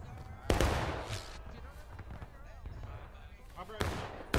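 Scattered distant musket gunfire in the Civil War game War of Rights, a few sharp reports rising over a steady battlefield bed while someone talks over it.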